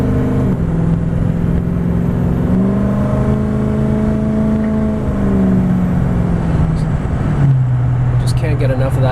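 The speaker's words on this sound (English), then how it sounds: "Get enough of that exhaust tone." A 2004 Ford F350 Harley Davidson Edition truck drives along with a loud, steady exhaust drone whose pitch rises and falls as it shifts through a 5-speed automatic, heard from inside the cab, with someone talking over it.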